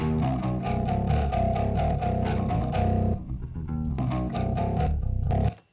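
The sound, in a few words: bass guitar through a distortion unit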